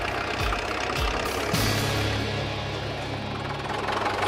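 An old bulldozer engine idling on a farm, a steady loud low rumbling drone with a slight shift in pitch partway through, no talking.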